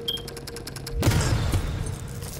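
A sudden loud explosion booms and rolls on in the video game Batman: Arkham Origins Blackgate, sharp onset followed by a sustained rumbling tail.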